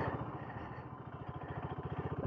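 BSA Goldstar single-cylinder motorcycle engine pulling at low revs, around 2,000 rpm, while being ridden, a steady close chugging thump with regular pulses and slight unevenness from the throttle.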